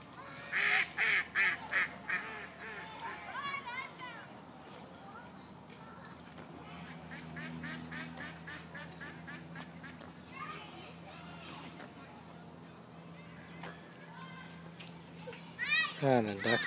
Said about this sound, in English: Oh, the ducks are returning.